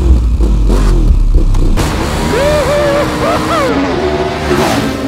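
Engine of a 2021 KTM 1290 Super Adventure S motorcycle revving, with rising and falling whining pitch sweeps building over a loud, steady low rumble.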